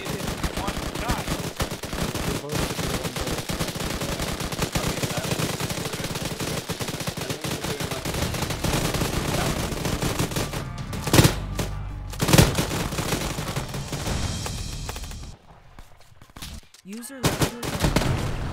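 Rapid automatic gunfire rattles loudly in Call of Duty, sustained bursts with a few sharp single shots near the end, voices faintly present underneath.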